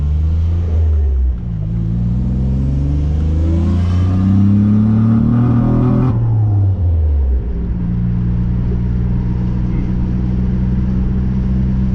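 Turbocharged Nissan Navara with a VG30 engine misfiring under 11 psi boost, loud close engine revving up with rising pitch, then dropping back to an uneven, stumbling idle rumble.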